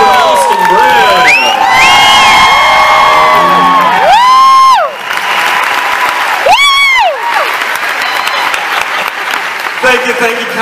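Concert audience at a Mother's Day vocal group show in Mankato claps and cheers loudly, with whoops and high shouts rising over sustained applause throughout.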